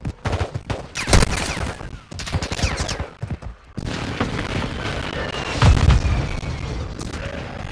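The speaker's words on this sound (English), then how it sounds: "Hostile airstrike incoming." Airstrike explosions in the mobile battle-royale game Warzone Mobile, heavy booms and crackling blasts landing in bursts with short gaps, loud and close, then a sustained rumbling barrage toward the end.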